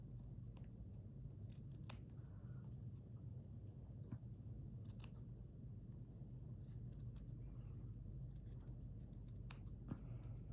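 Scissors snipping a fabric apricot flower for slow stitching, with sharp, sparse close cuts in small clusters over a steady low background hum.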